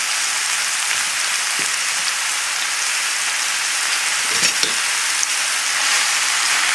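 Onions and mushrooms sizzle in a pan over a high flame for a vinaigrette burger topping, a steady loud hiss with occasional soft stirring clicks and no talk.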